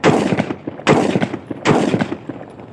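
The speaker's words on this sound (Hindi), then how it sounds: "आप लोगों ने चेक कर लिए इनके टेस्ट फायर, ठीक है, इन पे टेस्ट फायर हो चुके हैं दोनों पे" Three sharp, loud gunshots from a 30 bore pistol, a Russian copy, being test fired, spaced under a second apart, each with a short echoing decay.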